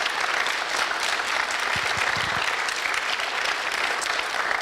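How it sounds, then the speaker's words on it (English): An audience at a mayoral question-time event applauds, a sustained, even round of clapping from a room of people, steady throughout with a few louder individual claps near the middle. "I'd like to give Steve a round of applause for his honest answering"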